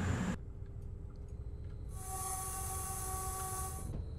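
A Voyager VT221 diesel train in Train Simulator, running Dundee to Edinburgh on the East Coast Main Line, sounds its horn in one sustained blast lasting about two seconds over a steady engine rumble.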